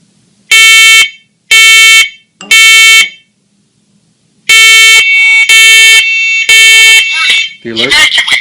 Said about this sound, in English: Push the test button until we hear it talk.